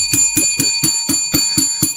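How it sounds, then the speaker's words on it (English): A bell rung in a steady series of eight sharp, bright strikes, each ringing briefly before the next, loud and close with no talk over it. "Let's ring the bell for that, Jimmy Hall"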